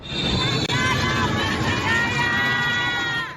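A large crowd gathered outside Shanghai airport waits for the arrival of a panda's crate, a dense babble of many voices and shouts at steady loudness with some excited cheering.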